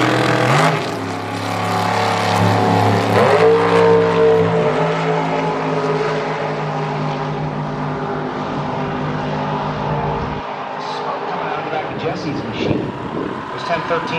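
Super Gas drag racing cars, one a 1957 model, launch side by side at an NHRA Midwest Nationals event at World Wide Technology Raceway, with a loud engine roar that rises in pitch and fades under an announcer's commentary.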